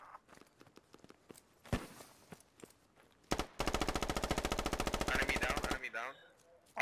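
Automatic gunfire in a tactical shooter video game, an isolated shot followed by a loud sustained rapid burst of rounds lasting about two seconds, with scattered footsteps and faint gear sounds before and after.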